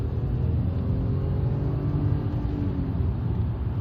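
A 2001 Rover 75 2.0 V6 Connoisseur SE accelerating, heard from inside the car as a steady deep engine rumble with a faint rising tone, no talk over it.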